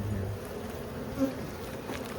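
Honeybees hum in a steady, low, diffuse drone around a colony cutout, their buzzing continuous and fairly close with no talk over it.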